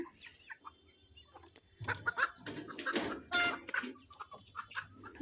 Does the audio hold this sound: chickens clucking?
yes